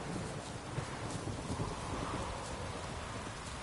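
A steady, dense rainstorm hisses continuously at a low, even level, with a faint rumbling undertone.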